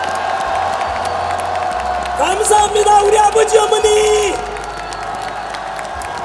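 A rally crowd erupts in loud cheering, whoops and applause for a couple of seconds, with someone speaking into a microphone before and over the noise, which then settles back under his voice.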